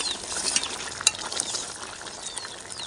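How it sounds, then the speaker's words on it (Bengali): Pieces of fried fish go into a pan of simmering flat bean and potato curry, giving a soft sizzle with faint stirring and light clinks of a utensil against the pan. "না সিম আর আলু সেদ্ধ হয়ে গেছে এবার ভেজে রাখা মাছগুলি দিয়ে দেবো"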